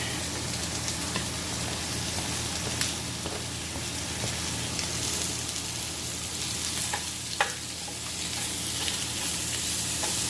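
Green peppers and onions sautéing in a pan, a continuous close sizzle broken by occasional spoon scrapes and taps, with no talking.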